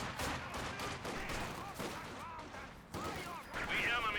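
Infantry gunfire from the Company of Heroes 2 video game, with grenadiers firing on conscripts: dense bursts of shots and rattling volleys run under steady voice commentary for the whole stretch.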